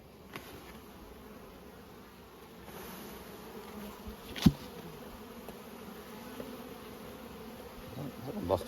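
Bees buzz steadily around an opened beehive, a continuous close hum with occasional louder passes near the microphone.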